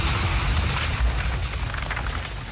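A deep, booming explosion, loud and close, with a sustained low-frequency roar spreading over a couple of seconds and no voices.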